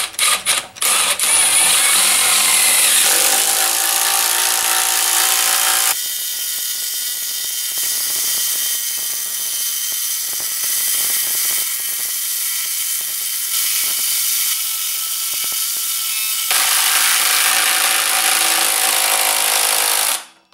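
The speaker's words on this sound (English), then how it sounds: "2653 sunk the 5-inch lag into the 6x6 post." A Milwaukee M18 FUEL 2653 impact driver drives a 5-inch lag bolt into a 6x6 wooden post. The hammering is loud, harsh and rapid, continuing for about twenty seconds and changing pitch partway through as the bolt sinks deeper.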